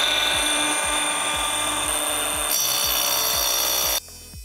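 A Ryobi One+ LTS180M 18 V cordless tile saw runs at a loud, steady high whine while cutting tile with a water feed, grinding on for about four seconds before the blade load drops off abruptly.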